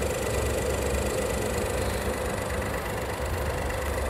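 A Proton X50 three-cylinder engine idles close by with a steady, continuous low rumble and a slight rough pulsing, running alone without voices throughout.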